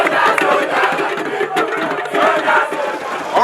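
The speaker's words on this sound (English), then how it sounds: "A cheering, frenzied crowd and onlookers on the street" A frenzied street crowd at the Ezeugbo New Yam Festival procession in Asaba cheers and shouts in a loud, continuous roar, close by, with scattered individual yells rising out of the din.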